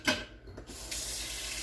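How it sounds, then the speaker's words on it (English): Kitchen faucet water runs into a sink after a brief clatter, a steady hiss of flowing water while cinnamon rolls with cream cheese glaze are being made, no talking. "Get some water going on that stuff."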